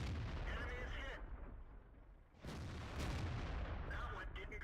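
A tank gun fires in the World of Tanks video game while aiming at a T57 heavy tank: a heavy booming shot with a rumbling tail amid steady engine and battle noise, with a second burst following.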